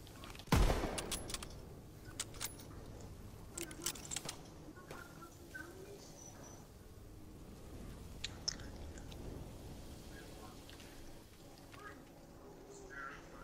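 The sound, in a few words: gunfire in the video game Call of Duty WWII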